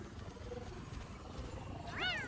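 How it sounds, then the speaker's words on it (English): A cat in a video game gives a single short, rising-and-falling meow near the end, clear above a low bed of game ambience. "Is that a kitty I hear in the game?"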